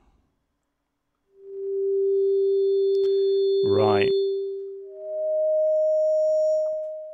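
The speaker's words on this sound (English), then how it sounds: "So at the beginning, it starts off with a sine wave." A pure, steady FM synthesizer sine tone from a single operator sounds alone, then jumps to a higher pitch; a brief spoken word cuts in midway.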